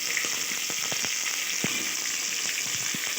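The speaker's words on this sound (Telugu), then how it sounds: "జీలకర్ర ఆవాలు ఒకటి వేగితే చాలు" Cumin and mustard seeds fry in hot oil for okra dal, giving a steady, close sizzle with scattered sharp pops and crackles throughout, no voices.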